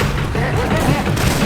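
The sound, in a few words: Syphon Filter weapon gunfire sound effect in Left 4 Dead 2 video game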